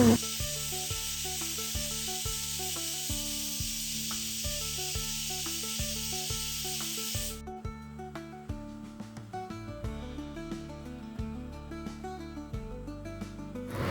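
Jaggery garelu, lentil fritters, sizzle in hot oil: a steady, bright hiss runs under continuous music for about seven seconds, then cuts off, leaving the music alone.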